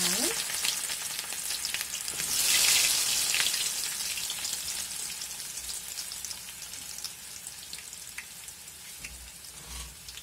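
Green chilies frying in hot oil for chicken leg curry, a dense steady crackling sizzle that swells early on and then settles, with a few faint knocks.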